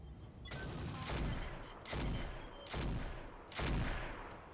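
Weapons fire at a Vindicator mech in the game Roguetech, four bursts of booming impacts, each a broad crackling blast that swells and fades at roughly one-second intervals, fairly quiet overall.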